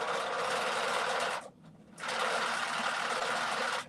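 A sewing machine stitches a skirt seam, a fast steady whir close up that stops briefly for half a second before running on again.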